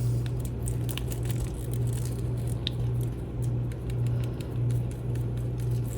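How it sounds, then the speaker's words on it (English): Powder pigments being stirred into resin in a small cup, a close, soft wet scraping and clicking of the stir stick repeating in an uneven rhythm over a steady low background hum. "Just make sure you stir your powders good."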